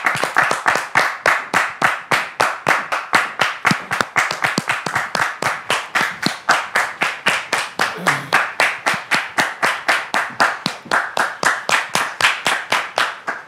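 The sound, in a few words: studio audience applauding arriving guests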